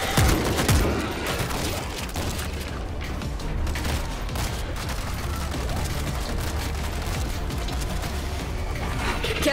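Sustained gunfire in World War Z, set in Tokyo, with dense rapid shots and bursts continuing without pause over a loud, chaotic background.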